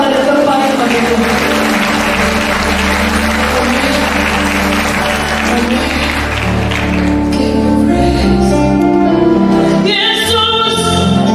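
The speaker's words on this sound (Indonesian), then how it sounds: "Kita beri tepuk tangan yang terbaik bagi Tuhan." A church congregation at a Christmas service in Mojokerto gives loud, sustained applause, dense and close for several seconds, blending into music and voices as it continues.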